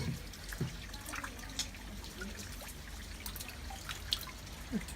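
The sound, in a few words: rainwater trickling and flowing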